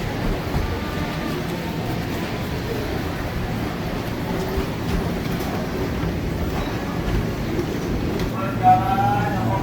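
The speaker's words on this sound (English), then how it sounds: "I want to have some fun and try taking the subway as opposed to just calling Grab" Jakarta subway train interior during a ride, a steady loud rumble of rolling wheels and carriage noise filling the whole stretch, with faint chatter and a brief chime near the end.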